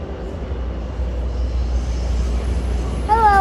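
An R211 New York City subway train rumbles into a station with a low, steady rolling drone that builds slightly, ending with a brief rising squeal of brakes.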